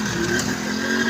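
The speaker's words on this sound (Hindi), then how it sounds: "देखते हैं क्या अब दो बाइक्स एक ट्रैक्टर को खींच पाती हैं या नहीं" Two motorcycles rev hard together while hauling a tractor by ropes, a steady loud droning engine note with a sustained pitch and no break, close by.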